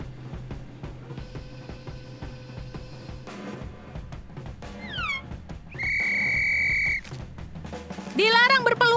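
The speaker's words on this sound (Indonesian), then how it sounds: "seorang penjaga baru dengan peluit yang sangat menjengkelkan" A school guard's whistle sounds in bright sharp blasts, one sustained long tone in the middle and a warbling trill near the end, set among cartoonish effects and background music.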